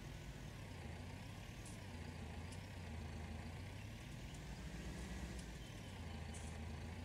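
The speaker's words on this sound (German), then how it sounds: "Motor starten, jawohl." A farm vehicle engine idles steadily in Farming Simulator 19, a low, even rumble that runs on without a break and stays faint throughout.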